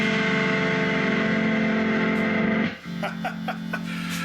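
An Epiphone Dave Mustaine Custom Flying V electric guitar, played through a cheap amp with distortion, rings out a loud, sustained distorted chord before it cuts off and a few shorter picked notes follow.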